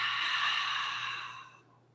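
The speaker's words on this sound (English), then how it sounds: "an audible exhale through the mouth." Slow audible exhale through the mouth during a flexibility flow session, a soft breathy rush close to the microphone lasting about a second and a half before fading away, no talk.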